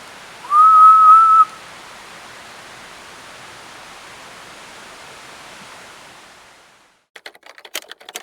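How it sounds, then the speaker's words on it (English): A person whistles a single steady sustained note, fairly loud and close, lasting about a second, inside an old mill, followed by a long stretch of quiet room hiss and a few faint scattered clicks and knocks. "Can you copy my whistle?"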